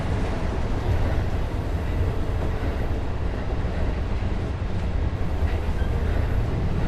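Continuous low rumbling of a train rolling into a station in a train simulator video game, steady and fairly loud throughout, with no voices.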